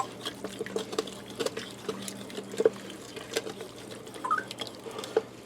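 A spoon scrapes and stirs liquid in an Instant Pot while making pot roast, loosening browned bits from the bottom, giving soft intermittent clicks and sloshing taps close by at a low level.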